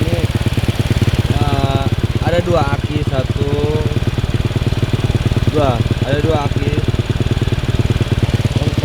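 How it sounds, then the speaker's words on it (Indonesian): A motorcycle engine used as a generator runs steadily at a close, loud, buzzing idle the whole time while someone talks over it. "Jadi motor ini kita gunakan sebagai genset. Ini bisa hidup berjam-jam."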